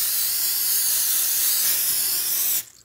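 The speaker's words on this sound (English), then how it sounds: "I've coated the pork chops with the panko breadcrumbs and this vegetable spray. We're going to spray on top" Vegetable cooking spray hissing from a can onto panko-breaded pork chops, one continuous close spray lasting over two seconds before cutting off abruptly.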